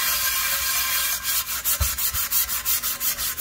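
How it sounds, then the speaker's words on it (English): Close scrubbing of a Wagner #8 cast iron skillet with a scouring pad: a quiet lead-in, then a steady series of rapid back-and-forth rasping strokes, about eight or nine per stretch, in a brisk even rhythm with no talking. "I'm just going to scrub it a little bit more"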